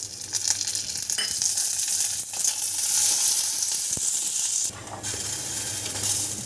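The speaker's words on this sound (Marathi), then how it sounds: "मिरची भाजायची आपल्याला रंग बदलेपर्यंत" Green chillies roast in a little oil in a pan, giving a bright, steady sizzle with a few metallic clinks and stirring scrapes, and a brief pause near the end before the frying resumes.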